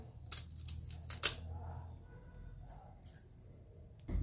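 A knife cuts the ends off a raw banana being prepared for chips, making a few quiet, close clicks and snips over faint background noise.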